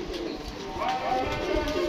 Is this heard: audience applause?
no